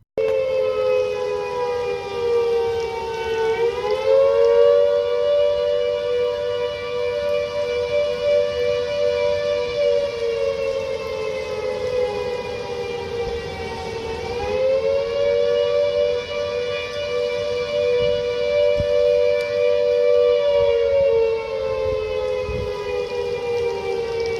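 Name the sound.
civil defense flood warning sirens in Todmorden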